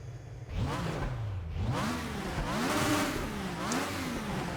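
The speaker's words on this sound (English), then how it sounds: "Start the car in the traditional way." A video-game race car engine fires up and revs repeatedly at Nogaro, its pitch rising and falling in loud, close surges.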